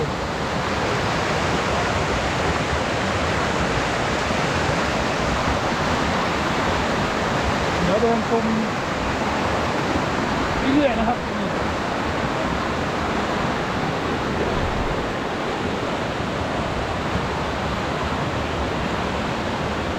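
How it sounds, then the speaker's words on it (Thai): Chet Khot waterfall in Saraburi, running strong after rain, gives a steady, dense roar of rushing water that fills the whole scene close by, with someone speaking briefly over it. "เดี๋ยวพาเพื่อนๆเดินชม น้ำตกไหล หลั่นลงไปเรื่อยๆนะครับ"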